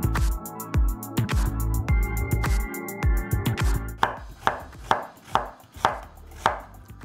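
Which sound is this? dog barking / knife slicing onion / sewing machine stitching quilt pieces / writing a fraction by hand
knife slicing onion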